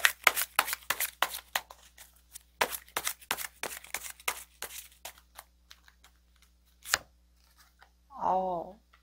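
Tarot cards are shuffled in rapid crisp riffles and slaps, one after another, then slow to a few isolated flicks as cards are drawn. A short voiced sound follows at the end.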